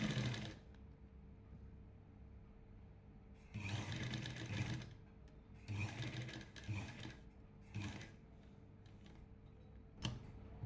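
A sewing machine stitches bias-cut piping onto a chudithar neckline in bursts of rapid, steady mechanical whirring, close and loud, with quiet pauses between runs.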